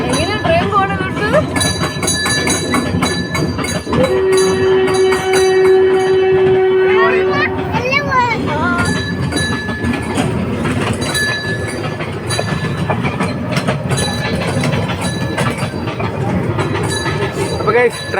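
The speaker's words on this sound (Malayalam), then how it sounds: "ട്രെയിനിൻ്റെ ശബ്ദമൊക്കെ ഉണ്ട്" Theme park train at Mango Meadows agricultural theme park in Kerala, running with steady rolling clatter and a sustained bell or horn tone partway through, loud and continuous throughout, with occasional voices.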